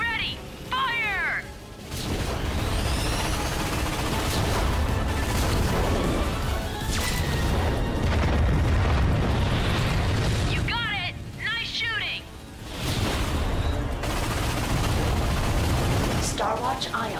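Ion cannon blasts and heavy explosions roar through a Ratchet and Clank video game battle, dense sustained booms filling most of the clip with brief quieter gaps where short synthetic chirps and game voice callouts are heard.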